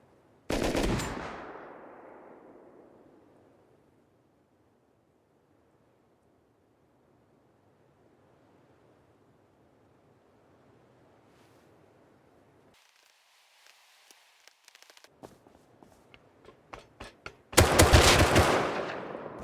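Shotgun blasts in the survival game Rust, a loud burst at the start and another near the end, with a quiet stretch and faint rattling between them.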